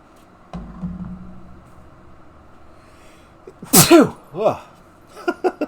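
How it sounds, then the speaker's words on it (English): One loud, close human sneeze bursts out of a quiet room during a Golf Clash game session, followed by a couple of short vocal sounds. "I just sneezed."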